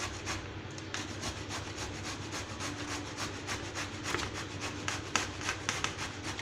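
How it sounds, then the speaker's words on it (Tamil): Raw banana grated on a carrot grater makes a steady scraping rasp in quick, even strokes, close and moderately loud, repeating throughout with no talk. "இப்போ வந்து நம்ம கேரட் துருவல் இருக்கு இல்லையா, அந்த இதில் வச்சு இந்த மாதிரி நல்லா துருவி எடுத்துக்கலாம்."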